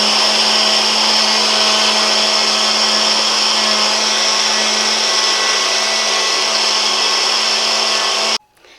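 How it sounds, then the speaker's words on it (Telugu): Roasted ajwain spice mix with salt whirls in a kitchen mixer grinder, a loud steady high-pitched motor whine running continuously for about eight seconds before cutting off abruptly. "ఇప్పుడు దీన్ని మిక్సీ పట్టుకుందాం"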